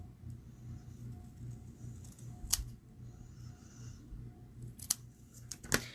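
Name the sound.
trimming paper with scissors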